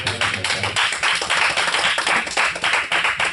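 A church congregation claps and applauds in a dense, continuous rattle of many hands, loud and close, holding steady throughout with no voices standing out.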